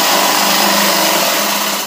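An electric sewing machine runs continuously while stitching the back pocket of a pair of trousers, a loud, steady, high whirring hum close by that eases off at the end.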